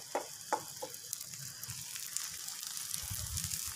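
A chapati paratha frying on an oiled tawa: a few sharp taps as it is set down, then a steady soft sizzle that swells slightly toward the end, with no one talking.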